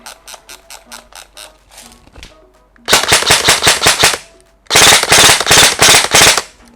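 An E&C 603S3 MK18 Mod1 electric BB gun fires loud, close bursts of rapid automatic shots: a few short strings of evenly spaced cracks, then two longer sustained volleys, with no talking.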